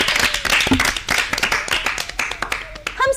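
A school audience claps for students after a poem presentation at a children's programme, with close, uneven handclaps throughout and some voices underneath.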